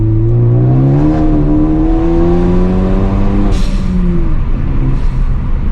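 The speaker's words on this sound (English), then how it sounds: "let's see the wheel hop" A car fitted with a COBB rear motor mount accelerates hard uphill in second gear, its loud engine droning and climbing steadily in pitch close by, with a brief wavering dip midway.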